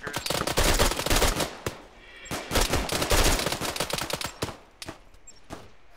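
ArmA 3 gunfire during a SWAT raid on Altis: dense, loud automatic bursts and rapid shots rattling almost continuously, then thinning into sparser single cracks near the end.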